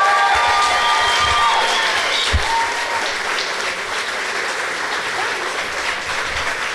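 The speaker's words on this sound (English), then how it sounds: "Huge round of applause for Carmen Yulin Cruz." An audience applauds Mayor Carmen Yulin Cruz at an evening event in Holyoke, with dense, steady clapping filling the room for several seconds and a few faint cheers.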